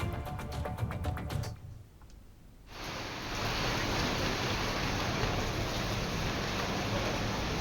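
Heavy monsoon rain pours down in Chikkamagaluru as a steady, loud hiss, broken by a brief quieter gap before the downpour resumes at full strength for the rest of the clip.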